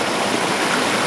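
A river flows with a steady, close rush of water, continuous broadband babbling with no voices.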